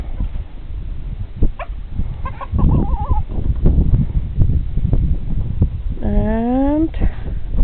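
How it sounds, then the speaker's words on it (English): Backyard chickens released from their coop cluck and squawk, with a sharp rising call near the end, amid rustling and general yard noise while a person speaks. "Okay, we're letting the chickens out."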